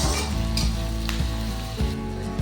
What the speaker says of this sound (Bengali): আবার কিছুক্ষণের জন্য রসুনটাকে ভালো করে ভেজে নেব সাথে পেঁয়াজ